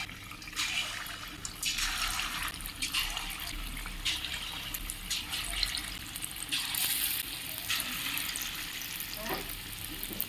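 Bora, fritters of ground lentil paste, deep-fry in hot oil with a continuous close crackling sizzle that swells in bursts, along with occasional stirring sounds and no talking.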